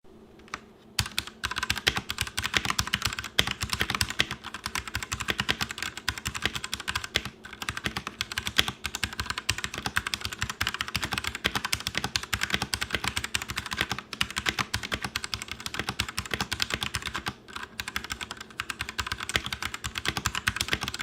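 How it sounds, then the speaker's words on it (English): Fast, steady clacking of a Redragon K628 mechanical keyboard with Redragon red switches being typed on, dense keystrokes continuing without pause, close and crisp. "I know most people just want to hear a recorded typing test"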